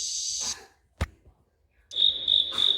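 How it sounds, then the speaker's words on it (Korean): Cricket chirping in short, shrill trills, a brief pause with a soft click, then the chirps return in pulsing bursts, close and clear. "귀뚜라미"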